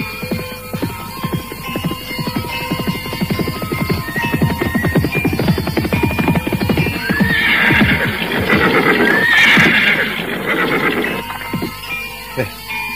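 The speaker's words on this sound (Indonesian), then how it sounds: "Siapa penunggang kuda yang berhenti di depan warung Kiselo itu?" A horse whinnies loudly while its hooves clip-clop to a halt in front of a roadside stall. Steady hoofbeats come first, then a shrill neigh near the middle, and a voice can be heard talking under the sounds.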